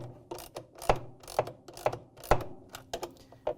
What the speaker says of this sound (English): Once you have it in place, we can tighten them down.